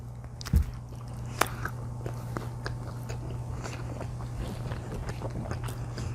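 Crunchy pizza being bitten and chewed close to the mic, with a sharp first bite followed by steady, soft crunching and mouth sounds over a constant low hum.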